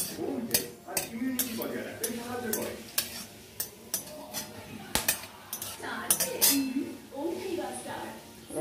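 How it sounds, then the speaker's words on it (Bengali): Chopped onions fry in a pan with dried red chillies, bay leaf and whole garam masala, a steady close sizzle punctuated by repeated sharp clinks and scrapes of a spoon stirring against the pan, with a person speaking over it. "আর এই পেঁয়াজ কুচিগুলো দিয়ে দিব। একটু ভাজা ভাজা করে নেব।"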